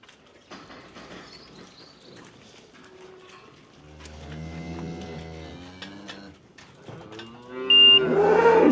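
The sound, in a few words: cattle mooing during worm and fluke dosing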